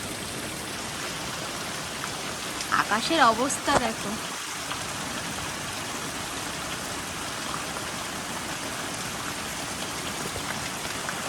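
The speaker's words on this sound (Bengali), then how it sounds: "এইরকম বৃষ্টি বেশ ভালো লাগে" Steady rain falling outside under a darkened sky, a continuous even hiss throughout, with someone speaking briefly over it near the start.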